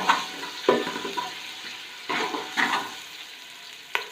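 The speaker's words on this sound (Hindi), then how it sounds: "इसको आप हल्की आंच पर हिलाएंगे, ज़्यादा इसको पकाना नहीं है।" Ginger garlic paste frying on low heat for chicken biryani, stirred in a pan: a soft sizzle broken by a few scraping strokes, close and fairly quiet, with no one talking.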